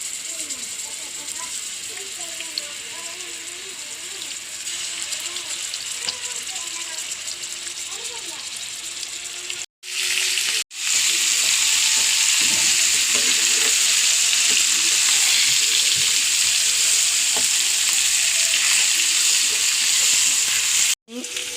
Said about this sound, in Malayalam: ഒരു ചട്ടി വെച്ചിട്ടുണ്ട് വറക്കാൻ. മീൻ വറുത്തിട്ട് വയ്ക്കണത്.